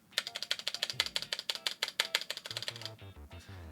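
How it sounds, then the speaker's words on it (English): Keys on an Asus ROG Falchion keyboard clack in a fast, even run of sharp, close taps, typing steadily at low volume before trailing off into softer rattles. "Quite honestly, I love how the spacebar sounds."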